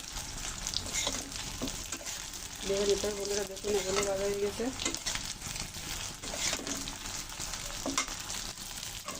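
Pieces of Kashmiri dhoka fry in oil over medium heat, a continuous close bubbling sizzle that runs throughout while someone talks over it.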